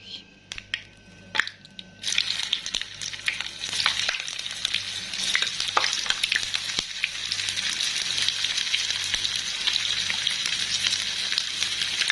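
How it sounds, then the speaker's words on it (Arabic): Chicken kofta frying in oil, opening with a few clicks and knocks before a loud, continuous crackling sizzle takes over and runs steadily up close for the rest of the stretch. "هنحمرها بقى في الزيت واوريها لكم بعد ما تتحمر هيبقى شكلها عامل ازاي"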